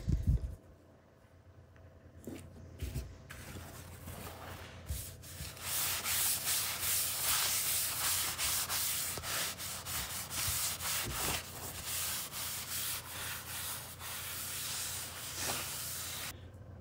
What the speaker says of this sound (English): It took me about 2 minutes to sand all of that wood burning out of it